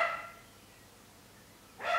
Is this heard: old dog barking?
yes